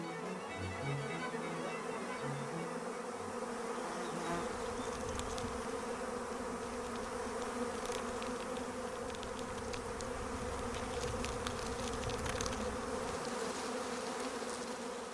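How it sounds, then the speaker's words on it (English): A swarm of honeybees gathers around the resting queen near the hive, a dense, continuous buzzing drone that stays steady and fairly close throughout, with individual bees flitting past. "the swarming bees follow her"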